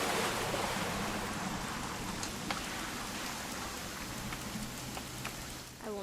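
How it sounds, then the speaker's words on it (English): Rain in the video game What Remains of Edith Finch during a hunting trip scene, a dense steady hiss of falling rain with scattered closer drops pattering on surfaces, continuous and moderately loud with no talk. "It's gonna rain the whole weekend,"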